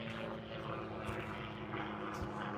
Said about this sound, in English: Even airplanes going by.